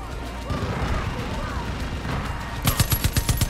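Rapid bursts of gunfire in the video game Far Cry 5, a quick string of sharp shots near the end after a stretch of game sounds and voices.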